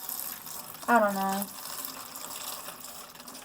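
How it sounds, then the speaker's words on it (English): Water runs steadily into seedling trays holding tomato and pepper transplants in cups, a continuous wash that goes on under a short spoken remark. "I'm gonna just fill each of these trays, and all of these plants will take in as much water as they need"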